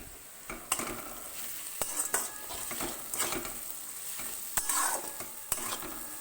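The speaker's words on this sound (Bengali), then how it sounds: "এবার মশলাটাকে ভালো করে মিশিয়ে কম আঁচে রেখে কষতে হবে" Ground turmeric, cumin, Kashmiri chili and coriander powders sizzle in a pan over low heat for egg tarka, with repeated sharp spatula scrapes and clinks against the metal, close and without talking.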